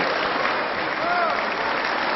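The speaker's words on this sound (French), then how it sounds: "Si à gauche on applaudit sans compter, à droite on fait plutôt grise mine." Steady applause rises from members in the French National Assembly chamber, a dense continuous clapping at an even loudness with a brief tonal sweep passing through the middle.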